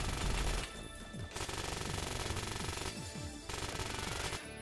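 Light machine gun in the video game Phantom Forces firing long rapid bursts, loud and close, with short breaks between strings of shots.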